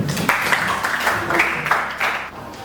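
Classroom applause for a classmate, a moderate spread of clapping from a group that rises and dips over a few seconds.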